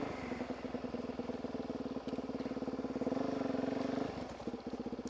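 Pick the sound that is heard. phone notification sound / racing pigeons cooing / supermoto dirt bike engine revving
supermoto dirt bike engine revving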